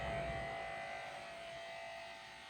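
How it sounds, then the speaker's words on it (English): Electric clippers buzz steadily while shaving a dog's ear during a shave-down groom, a close, continuous motor hum that holds at an even level and eases slightly toward the end. "So you always want to be shaving away from the end of the ear."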